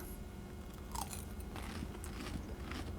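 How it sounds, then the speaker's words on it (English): Crunchy chicken Parmesan is bitten and chewed up close, with quiet, crisp crackling bites and chewing that last a few seconds without talk. "I'm ready to taste my chicken Parmesan."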